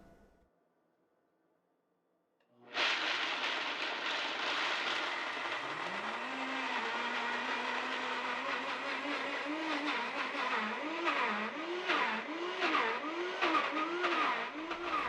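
A Vitamix blender starts up after a moment of quiet and runs loud and steady while making almond butter, its motor pitch dipping and rising in a repeated wobble as the thick mix churns.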